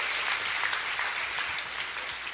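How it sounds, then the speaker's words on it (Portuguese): A church congregation claps during a worship service, a dense, even patter of many hands held at a soft, fairly distant level for a couple of seconds. "dá uma salva de palmas ao Senhor"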